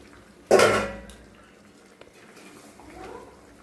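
Fish slipped into hot mustard oil in a pan: a loud, sudden burst of sizzling hiss that peaks at once and then settles into a steady, quieter frying crackle.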